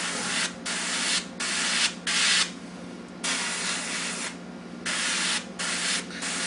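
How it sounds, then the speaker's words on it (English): Repeated close bursts of aerosol spray paint hissing from a can, each lasting about a second with short pauses between them. "I'll just spray on the tape to make sure I'm still getting a good flow of the paint"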